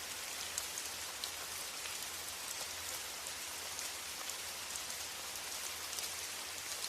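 Gentle rain falls steadily and evenly, a soft continuous hiss of drops on a surface with no voices or other sounds.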